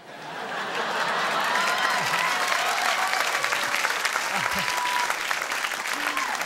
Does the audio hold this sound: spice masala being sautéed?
no